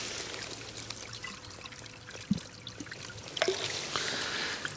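Water scooped and poured from the River Tyne at its source on a wild camping trip, a soft close trickle and splash against quiet outdoor ambience, with no speech.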